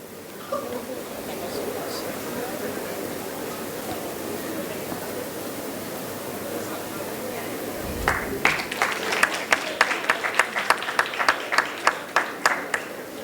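Audience applause breaks out in a hall for the moderator of a panel discussion, rising sharply about two-thirds through as many hands clap together after a stretch of murmuring room noise.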